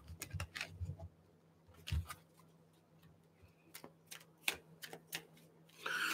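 Tarot cards being shuffled, giving a series of crisp, irregular riffling ticks and taps up close, with a denser flurry at the end and no talk.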